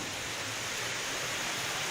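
Heavy monsoon rain in Nagpur, India, pours down as a steady, dense, hissing wash of noise with no voices.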